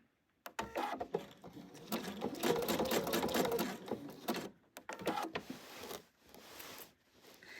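A sewing machine zigzag-stitches yarn onto a quilted Easter bunny wall hanging, making a close, fast mechanical chatter in bursts of several seconds with brief pauses between them.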